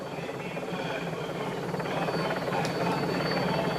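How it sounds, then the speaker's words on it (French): A helicopter filming a Tour de France stage, the 1992 Strasbourg–Mulhouse leg, gives off a steady, fairly faint rotor buzz and whine throughout, with a slight swell toward the end. "L'hélicoptère se retourne."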